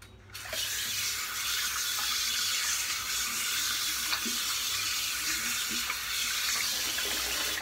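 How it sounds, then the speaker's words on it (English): Tap water runs steadily while hands are rinsed at a bathroom sink before a shave, a continuous close splashing hiss with small plops and clinks throughout. "Let me rinse my hands"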